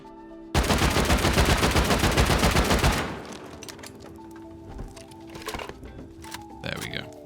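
Dense burst of video-game weapon fire, rocket and explosive rounds, loud and rapid for a couple of seconds, then dying into scattered fainter clatter and small impacts.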